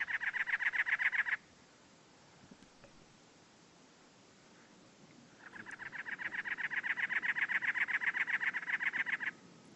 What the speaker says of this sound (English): It's a cactus wren.